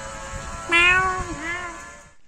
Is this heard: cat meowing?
yes